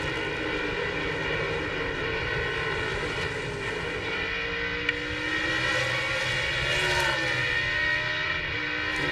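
A NASCAR Winston Cup race car engine at Watkins Glen drones steadily with no pause, its pitch sweeping during a downshift, loud and continuous with no talking.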